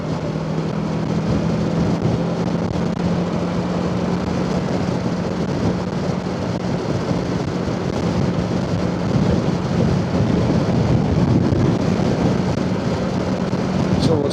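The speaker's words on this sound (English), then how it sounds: "That's some wind." Strong wind buffets a cyclist riding from Dundee toward Montrose in North East Scotland, a loud, steady broadband roar that fills the whole stretch with gusty swells and a low drone underneath.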